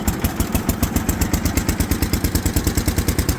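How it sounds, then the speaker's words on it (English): A cold Allis Chalmers garden tractor engine running steadily after starting, a close, loud, rapid rhythmic putter with clattering exhaust pulses throughout. "Turn on our ignition, just breathe on that key."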